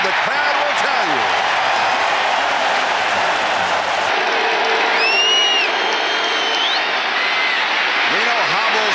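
A stadium crowd roars and cheers throughout at an NFL football game as a Dolphins kick goes up, a loud continuous wash of voices with whistles and a swell in the middle.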